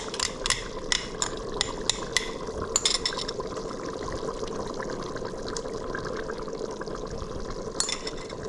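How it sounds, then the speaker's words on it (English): A tomato and tamarind mixture is poured into a hot pan already holding chili powder, giving a steady wet hiss and bubbling with scattered clicks and splashes throughout. "So let's get the tomato with the tamarind mix in. In that goes."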